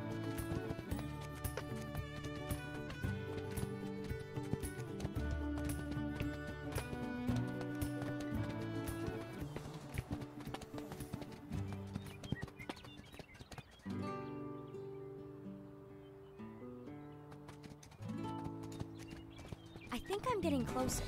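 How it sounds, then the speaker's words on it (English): Horse hooves clip-clopping at a gallop in a video game, with steady rhythmic thuds under a continuous musical score that dominates the mix. "Looks like this is the right path. Giddy up, Spirit!"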